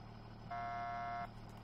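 A steady electronic horn on a Polaris Ranger brush truck in Farming Simulator 17 blares for under a second over a constant engine hum, then cuts off cleanly, leaving the idling drone.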